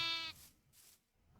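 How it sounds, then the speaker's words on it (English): A sheep in the Minecraft video game bleats once, a short harmonic-rich cry at the start, followed by soft quiet game noise and a faint rustle. "let's go ahead and get this other sheep over here"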